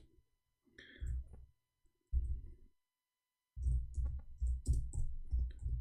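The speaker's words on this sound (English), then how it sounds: "I'm typing in English." Short bursts of soft keyboard typing, clusters of quick key clicks separated by brief pauses, close by and quiet.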